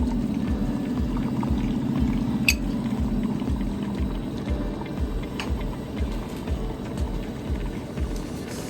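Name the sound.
pouring liquid into pan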